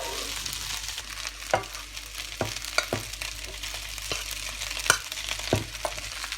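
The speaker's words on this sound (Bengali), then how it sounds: "এখন আমি এটাকে ভালো করে একটু মিক্স করে নিব এরকম চেপে চেপে আলু আর নুডলসটা যেন ভালোভাবে মিক্স হয়" Mashed potato and boiled noodles are pressed and mixed together in a bowl for noodle donuts, making soft squelches and scattered spoon knocks at an uneven pace.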